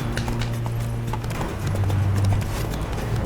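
A horse in The Witcher 3: Wild Hunt clip-clops steadily along, its close, even hoofbeats running the whole time over a soft low ambient hum.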